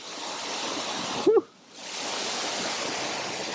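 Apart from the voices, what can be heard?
Ouzoud waterfall in Morocco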